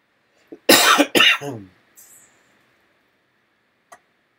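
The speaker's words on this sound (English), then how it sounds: "Excuse my cough. Still getting over a cold." Two harsh, loud coughs from someone with a cold, close together near the mic, followed by a faint trailing breath and a small click, then quiet.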